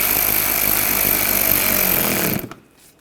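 A power tool drives trim screws into a Buick Encore's inner fender trim with a steady, loud whir that holds for over two seconds, then stops abruptly, leaving near silence.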